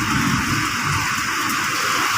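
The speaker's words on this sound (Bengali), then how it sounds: "শিল পড়ছে আবার" Hail falls during a storm with lightning, making a dense, steady pattering roar that stays loud and continuous throughout, with no voices.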